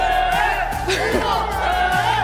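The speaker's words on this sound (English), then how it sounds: "The crowd is going crazy." A large crowd at an esports knockout-stage event roars and whoops in a dense, loud wash of voices with amplified speech mixed in.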